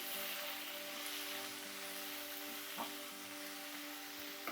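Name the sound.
paneer sizzling and being stirred in pan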